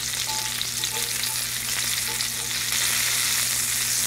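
Lamb burgers sizzling loudly in a hot pan as they are flipped, a dense close frying hiss with a slight swell partway through, no voices.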